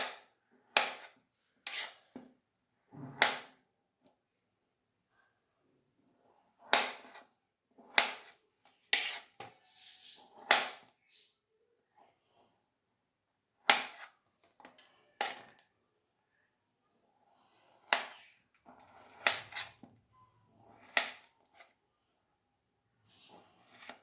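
Taro and mango being chopped into pieces on a cutting board: sharp, isolated knife strikes in irregular groups with quiet pauses between, close and clear, with faint talk in places.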